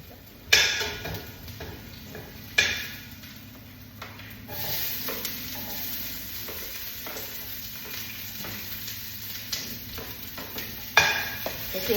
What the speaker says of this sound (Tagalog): niluluto ko sopas